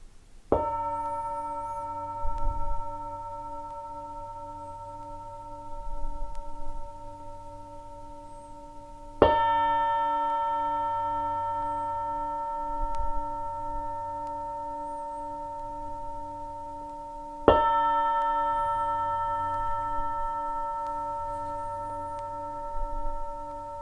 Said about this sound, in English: as you hear the gong slowly coming out from meditation